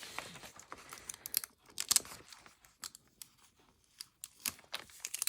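Backing is peeled off an office label sheet, giving soft crinkly tearing and papery rustles in short irregular bursts, close and quiet.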